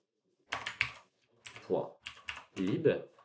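Quick keystrokes on a computer keyboard while entering SDL library file names in a development setup, giving a few short clicking bursts with pauses between them, alongside voice-like sounds.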